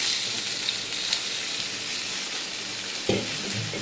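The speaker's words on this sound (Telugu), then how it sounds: "ఇగో దోసకాయ, బంగాళదుంప, టమాటా ఈ మూడు కలిపి దీంట్లో వేస్తానండి" Cucumber, potato and tomato frying in a pan for a curry, a steady soft sizzle with light stirring, then a brief clatter near the end.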